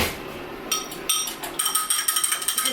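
Eggs are whisked in a small bowl in a home kitchen. A quick run of light, sharp taps and clatters speeds up into an even rhythm, close and fairly quiet.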